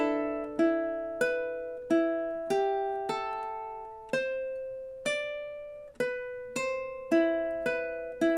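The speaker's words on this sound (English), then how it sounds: "playing it really slow, looks something like this" A ukulele slowly plucks the Exorcist theme riff as clear single notes and chord tones, each ringing out and decaying before the next, at an unhurried, slightly uneven pace.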